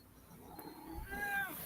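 A cat meowing softly and nearby against a steady background hum, a drawn-out rising call that grows a little louder toward the end.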